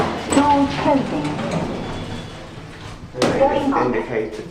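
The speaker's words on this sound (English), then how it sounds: "Door closing." A lift door at a John Lewis store in Kingston slides shut with a muffled clunk. People talk before and after it in the enclosed car.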